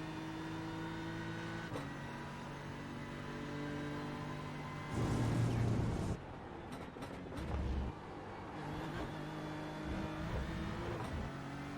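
A BMW M4 GT3 race car at the Red Bull Ring in a racing video game, its engine droning and shifting steadily, with a louder rough burst midway and short gear-change cuts.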